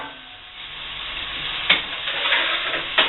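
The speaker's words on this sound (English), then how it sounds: "Give it a little stir." Onions and bacon sizzle in a soup pot for cream of celery soup, a steady frying hiss with a couple of distinct stirring clinks near the end.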